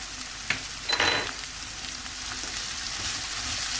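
Vegetables and spices for spring roll filling, including black and white pepper, crushed red chilli, cumin, coriander and soy sauce, sizzle steadily in a hot pan, with a few sharp stirring scrapes near the start.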